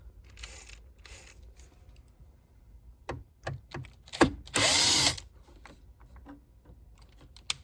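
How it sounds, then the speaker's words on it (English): T20 screws being backed out of Mercedes-Benz GL interior trim: quiet clicks and small mechanical taps, then a short burst of a power driver whirring for about half a second, with faint handling noises around it. "we're going to remove these two T20 screws"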